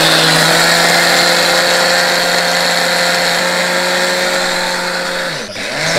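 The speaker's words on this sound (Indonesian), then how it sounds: "Nah, kita blender dulu ya." A kitchen blender grinds bird feed into a fine mash for hand-feeding young zebra doves, spotted doves and lovebirds, a loud steady motor whine running continuously before briefly dipping near the end.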